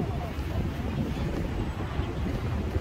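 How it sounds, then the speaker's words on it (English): Wind blows through a city park, buffeting the microphone in a continuous low rumble with gusty swells and no clear pauses. "And it is again very windy"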